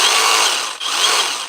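A Bosch jigsaw runs at steady high speed with a dense, buzzing whine, briefly dipping midway before continuing; close and loud, with no talking.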